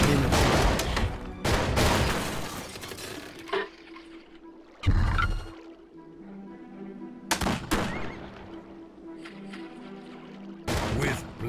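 Volleys of musket-style gunfire from soldiers in a strategy video game crack out in several loud bursts, with quieter gaps in between where faint tones and thumps linger.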